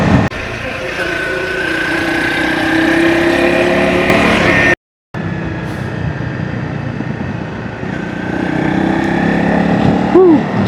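A Honda CRF 250 L motorcycle engine droning steadily on an open road, loud and close with wind rush and rising revs as it accelerates, briefly cutting out partway through.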